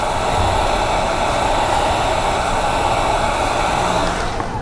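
A heat gun on its low setting blows over headlight tint film on a 2024-2025 Hyundai Sonata, giving a steady, moderately loud airy whoosh that holds constant throughout without speech.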